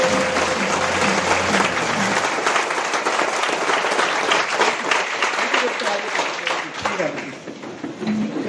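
Audience applause at a seminar, a dense steady wash of clapping from a large crowd that holds strong throughout and tapers slightly near the end, with faint voices underneath.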